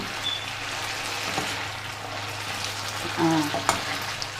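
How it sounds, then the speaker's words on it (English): Smothered potatoes sizzling in a pan as seasoning gets stirred in, a continuous crackling fry with a few spoon clinks and scrapes near the end. "We're going to give this a good stir."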